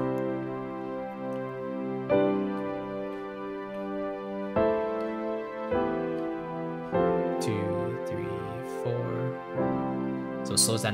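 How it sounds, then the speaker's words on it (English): Piano and synth pad chords in Logic Pro X, sustained and played in sequence as the tempo gradually slows, the final chord held longest, warm and close with no talking. "So I kind of like that piano and pad sound."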